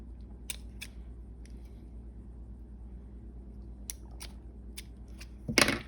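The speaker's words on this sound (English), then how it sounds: "you're going to cut the tag ends of these off" Fishing line tag ends from a Uni Knot are snipped, a few sharp quiet clicks scattered over near silence, ending in a short louder scrape of handling.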